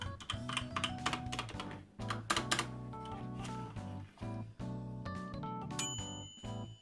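Rapid typing on an Epomaker TH80 SE 75% mechanical keyboard, with dense clicks and clacks in quick bursts, close and steady, a few brief pauses, plus a faint ringing ping near the end.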